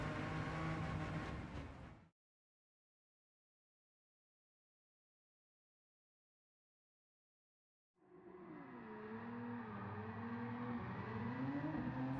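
A 2017 Ford GT drifting in Gran Turismo 7 gives a sustained engine roar for about two seconds. After a long stretch of silence, the engine sound returns steadily and loudly for the last four seconds.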